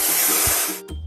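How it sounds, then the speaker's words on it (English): Paint sprayer in a construction vehicle video game gives a loud, steady hiss for most of a second, then cuts off abruptly and resumes briefly. "Let's point the sprayer at the stain and paint it over."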